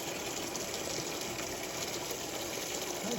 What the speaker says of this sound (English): We've got to start by draining the coolant and then get ready to take the blower off.